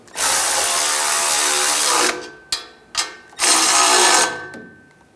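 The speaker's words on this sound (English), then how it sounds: "Now we'll tighten these two nuts down." A power ratchet whirs loudly in two long sustained runs on the catalytic converter nuts of a 2011-2018 Ram 1500 3.6L V6, with two short bursts between them, close up and with no talk.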